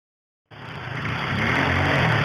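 A motorbike engine starts abruptly after a brief silence, then runs with a steady, loud, close rumble that grows slightly, and no one speaks.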